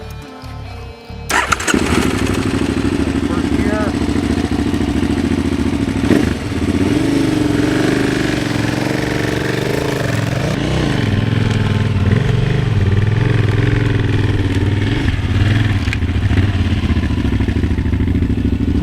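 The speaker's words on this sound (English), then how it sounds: "lots of throttle and clutch control. Get the bike slightly moving" Motorcycle engine starting, then a sustained loud throttle-driven drone with rising and falling revs, clutch-controlled, as the bike creeps slowly up a hill, close and without talk.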